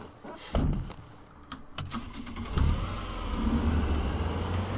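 A car in Sniper Ghost Warrior 3 starts up with a couple of door-like thunks, then its engine settles into a steady, rising hum as the vehicle drives off, loud and close.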